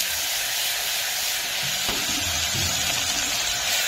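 Food frying in a pan after salt goes in, a dense continuous sizzle close to the microphone with scraping stirring strokes breaking through partway.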